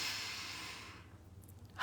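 A single slow, deep breath drawn in and released, soft and close, then a brief louder rush of air at the end.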